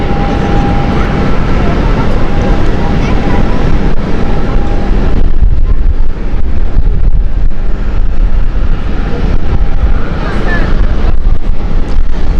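An airliner starting its takeoff roll at Amsterdam Schiphol airport, a loud, broad roaring rush mixed with heavy wind buffeting on the microphone, steady throughout with people talking over it.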